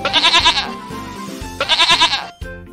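Two bursts of goat bleating, each a wavering, nasal series of pulses, loud and close, separated by a brief pause.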